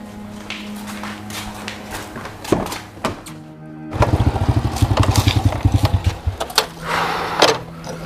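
An old, shabby motorbike putters with a rhythmic run of low engine pulses in the middle of the clip, surrounded by scattered thumps and knocks, close by.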